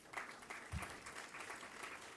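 Audience applause at an event, a faint, steady patter of many hands clapping, distant and low in level throughout.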